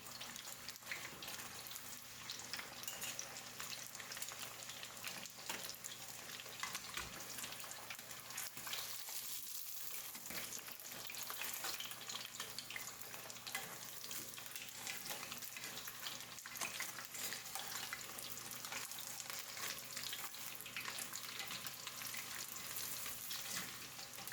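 Spicy chicken katsu fries in hot oil, a steady dense crackle and sizzle that carries on without a break, close and fairly quiet, with a brief stirring or water sound near the middle and no voices.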